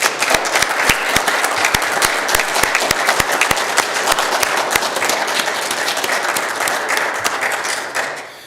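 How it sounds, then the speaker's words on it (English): A church congregation gives a long, loud round of applause for the tech team and musicians. Close, sharp individual claps stand out over the dense crowd clapping, which fades near the end. "how about if we give the entire tech team, the musicians, everyone a big round of applause."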